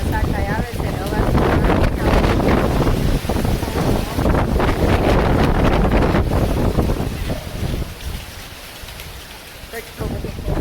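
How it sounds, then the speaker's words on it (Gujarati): Heavy storm wind in Surat rushes and buffets loudly with a rain-like hiss, sustained for several seconds before dropping somewhat, then rising again. "એટલો બધો પવન આવે છે,"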